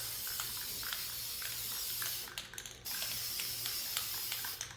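Spray paint hisses from an aerosol can onto ceramic deer figurines in long continuous bursts, close up, with one brief pause and faint tapping clicks of the nozzle.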